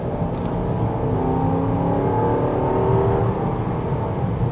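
A 2024 Jeep Grand Cherokee L Summit rounds a roundabout, its engine and road noise a steady, loud cabin drone with a low rumble and faint whir throughout.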